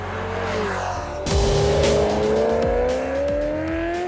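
A Ferrari 348 is driven hard, its engine climbing loudly through the revs, with a sharp jump in volume partway through as it accelerates and the pitch rises steadily, up close.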